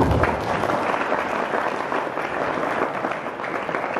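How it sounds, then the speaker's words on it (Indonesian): An audience at a religious gathering applauds, sustained even clapping from a crowd filling the hall for several seconds. "Tepuk tangan untuk beliau."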